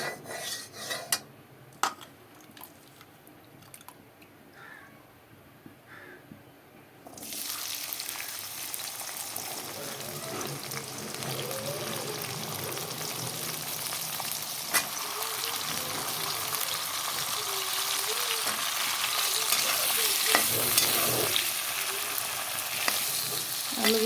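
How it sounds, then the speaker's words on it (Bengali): Potatoes poured into hot oil in a wok, quiet at first and then a sudden surge into a loud, continuous sizzle that grows steadily stronger, with stirring scrapes mixed in. "তেলটা গরম হয়ে গেলে এখন আলুগুলোকে ঢেলে দেবো"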